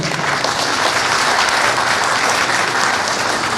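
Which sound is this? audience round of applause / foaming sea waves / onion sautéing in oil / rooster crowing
audience round of applause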